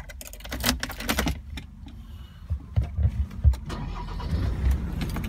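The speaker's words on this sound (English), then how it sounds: "I'll start the car up now" A Land Rover Defender starting up, with clicks and handling noises followed by the engine turning over and settling into a low rumble, heard close from inside the vehicle.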